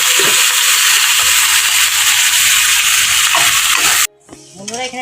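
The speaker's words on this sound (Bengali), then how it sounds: "এখানে পেঁয়াজটাকে লাল করে ভেজে নিতে হবে" Chopped onions frying in oil with whole cardamom, cinnamon, cloves and cumin seeds give a loud, dense sizzle close by, stirred now and then, until the sizzle cuts off abruptly near the end.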